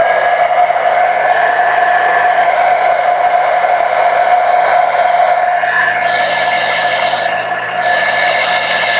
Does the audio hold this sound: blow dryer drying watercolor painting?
yes